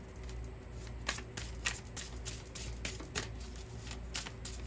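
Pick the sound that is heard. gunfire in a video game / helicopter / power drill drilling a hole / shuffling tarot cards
shuffling tarot cards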